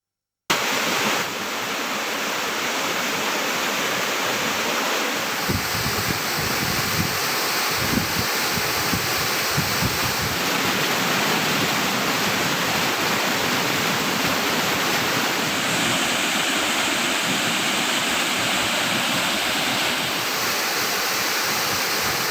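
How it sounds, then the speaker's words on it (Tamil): Rain-swollen waterfall pouring heavily, a loud, steady broadband rush of falling water that stays constant throughout with no voices. "தீர்த்தப்பாறை நரிப்பாறை உள்ளிட்ட பல்வேறு நீர்வீழ்ச்சிகளுக்கு தண்ணீர் வந்து கொண்டிருக்கிறது"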